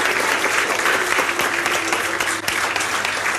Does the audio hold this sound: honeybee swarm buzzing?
no